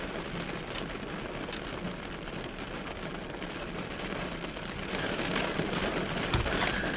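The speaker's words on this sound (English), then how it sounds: "It's raining pretty bad right now." Steady rain hisses and patters on surfaces, growing a little heavier toward the end, with no voices.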